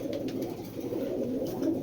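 A Doraemon-line pigeon pair, the main master breeding pair of a home loft, coos in a low, continuous, close murmur with no talking.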